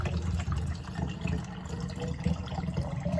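Canned coconut water, a whole 11.1-ounce can, pours steadily into a container for a homemade electrolyte drink, a continuous close splashing gush with no talking.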